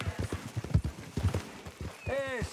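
Horse hooves clip-clop in a steady rhythm in Red Dead Redemption 2, close and moderately loud, with a brief whinny near the end and faint talk in the background.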